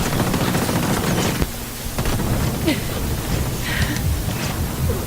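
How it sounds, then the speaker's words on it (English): Rapid gunfire in a shooter video game, dense bursts and crackling shots under a steady noisy backdrop, with a voice talking over much of it. "How are you still shooting me?"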